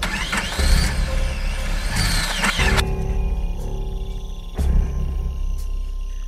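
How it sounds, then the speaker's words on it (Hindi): In an animated cartoon, a car engine cranks and roars to life loudly, then cuts out abruptly and falls quiet, followed by another short burst of engine noise, with no speech heard. "गाड़ी स्टार्ट होकर बंद हो जाती है।"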